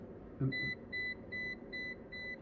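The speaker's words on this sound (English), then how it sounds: "sorry, that's my meter beeping." A multimeter beeps in a series of short, evenly spaced high chirps, fairly faint over a low background hum.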